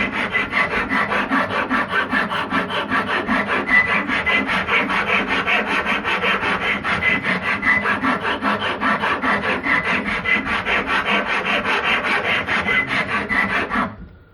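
A rasp files a wooden handle for a 3 lb sledgehammer in rapid, even back-and-forth strokes, close and loud, continuing steadily with no talk until it stops at the end.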